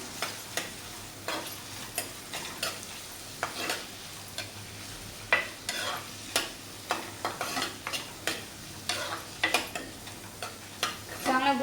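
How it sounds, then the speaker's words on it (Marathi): Finely chopped onion frying in oil for misal, a low sizzle beneath frequent rhythmic scraping and tapping of a spatula stirring the pan, close by with no talk. "तर ते आपण तेलामध्ये ॲड करूया कांदा तेलात चांगला परतून घेऊया"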